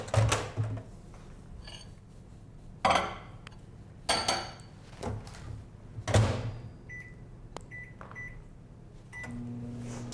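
Kitchen microwave melting chocolate chips mixed with coconut oil: a low steady hum with scattered clinks and clunks of dishes and the door, ending with a beep and a renewed hum.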